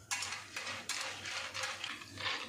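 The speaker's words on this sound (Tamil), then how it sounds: "இதே மாதிரி எண்ணெயில் போட்டு நல்லா வறுத்துக்கலாம்" Fried gram being roasted in oil in a pan and stirred, giving repeated scraping strokes over a steady, hissing sizzle. The sound is close and fairly even, with no voices.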